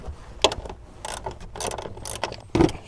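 A ratchet loosens the two 10mm fan bolts on a Chevrolet Silverado during an AC condenser replacement, giving several short, close bursts of clicking separated by brief pauses, with no talking.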